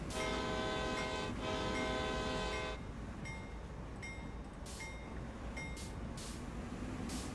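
A freight train on Sand Patch Grade in Train Sim World 2 sounds a long multi-tone horn blast, followed by a steady rumbling run and several shorter clanks and hisses.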